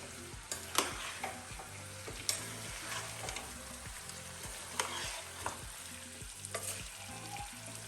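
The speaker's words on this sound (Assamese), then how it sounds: "আৰু পুনৰ ভালকৈ এইটো আমি মিক্স কৰিম আৰু অলপ সময় আৰু ভাজিম" Chicken roast frying in a pan sizzles steadily while a spoon stirs it, leaving repeated scraping clacks over light background music.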